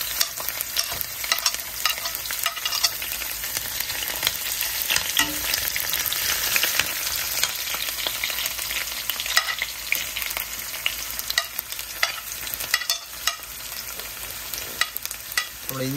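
Garlic frying in hot sesame oil while being stirred in a pan, a steady dense sizzle with scraping stir noises and occasional louder crackles, close and continuous without talk.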